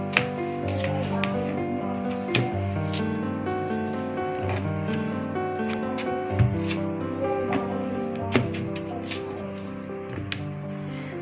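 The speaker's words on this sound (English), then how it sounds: "we're done cutting the mango" A knife cuts through raw mango in a home kitchen, making a series of short crisp cutting clicks at an uneven pace, close by and moderately loud over steady background music.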